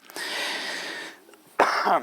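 A harsh, breathy cough close to the mic, followed by a short pause and a second sharp cough burst.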